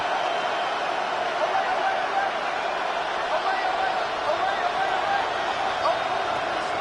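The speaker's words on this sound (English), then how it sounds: "This crowd turning up the decibel level." A football stadium crowd roars in a steady, dense wash of noise throughout, with a commentator talking over it during a third-and-long play.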